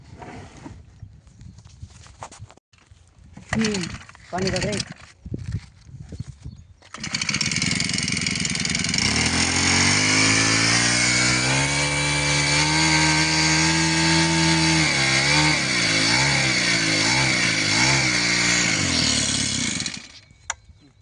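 A vehicle engine starts after some rustling and brief talk, then revs loud and close, rising and falling in pitch as it runs hard for over ten seconds before cutting off.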